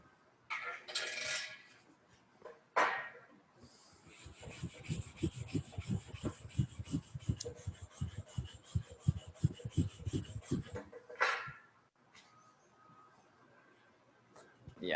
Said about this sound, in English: I'm gonna brush this out